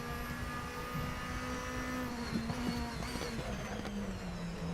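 Steady race car engine drone from the DTM racing video game at the Norisring circuit, a continuous whining tone with slight pitch shifts and a few brief gear-change blips, mid-level and unaccompanied by speech.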